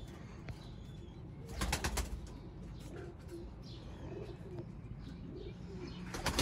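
Soft, low coos of chapray pigeons repeat in the background amid outdoor noise, with a few bursts of wing flapping and faint chirps.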